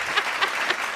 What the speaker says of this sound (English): I'll just do applause.